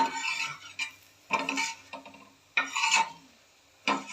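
Hot food scraped onto a steel plate, rough rasping scrapes in four or five separate bursts with short pauses between, close and fairly loud, no voices.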